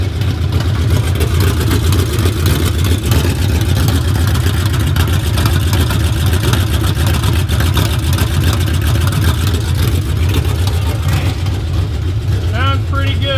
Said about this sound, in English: Oh, it's loud. I forgot how loud this car was.